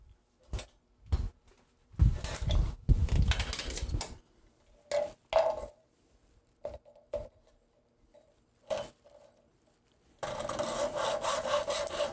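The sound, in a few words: hacksaw cutting off a 3D-printed part end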